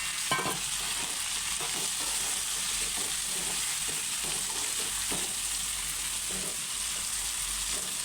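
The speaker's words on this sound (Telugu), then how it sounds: "ఇందులోనే మనం టమాటాలు వంకాయలు వేయించుకున్నవి వేసుకుందాం." Fried tomatoes and brinjals are stirred into onions in a pan for a brinjal-tomato curry. A constant sizzle runs under regular scraping strokes of the spoon, with no voices.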